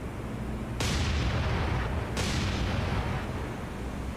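Two heavy naval gun salvos boom out in War on the Sea, each a sudden loud blast about a second apart that trails into a long rumbling roar.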